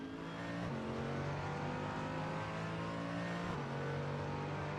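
GT race cars fight for position at Mugello in a racing game, their engines droning loud and steady with pitch shifts as gears change, while several cars run close together.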